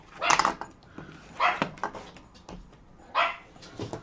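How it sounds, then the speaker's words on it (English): A small, yappy dog barks indoors in a few sharp, separate bursts, moderately close but not very loud, with quiet room sound between barks. "I've got one very yappy dog."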